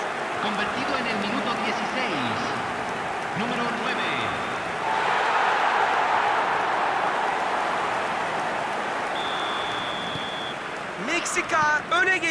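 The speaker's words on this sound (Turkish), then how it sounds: "Stadın dört bir yanından destek tezahüratlarını duyabiliyoruz." Stadium crowd chants and cheers roll steadily through an eFootball 2025 match between Mexico and Turkey, a dense, distant wash of voices that holds throughout with whistles and brief horn-like tones.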